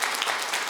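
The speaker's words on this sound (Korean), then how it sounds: "박수 한번 드리세요." A short burst of steady applause from a crowd, clapping evenly throughout.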